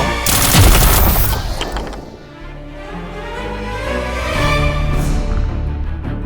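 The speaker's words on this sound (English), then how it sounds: "That was Leon's rifle." Rifle fire in an audio drama: a loud, dense burst of shots erupts up close, then fades into a long rumbling, echoing tail.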